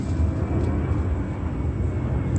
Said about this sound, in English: another plane seconds later